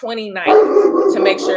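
A pet dog barks and yips close by in a home, its short sharp calls overlapping a man's speech.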